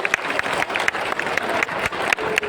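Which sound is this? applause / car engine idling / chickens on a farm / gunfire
applause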